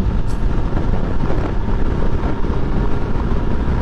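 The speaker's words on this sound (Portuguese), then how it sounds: "Vamos passar esse caminhão aqui" A Honda XRE 300 motorcycle from 2013 rides past a truck on the road, its engine a constant low roar buried in heavy wind rush, loud and steady throughout.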